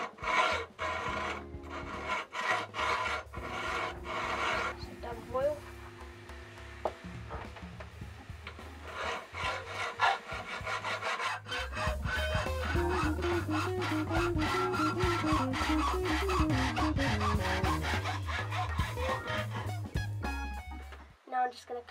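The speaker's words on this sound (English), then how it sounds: "I'm just going to cut it by hand with a hacksaw." Aluminium is cut by hand with a hacksaw in a steady series of close, rasping back-and-forth strokes that runs for some twenty seconds, with brief pauses and handling noises between.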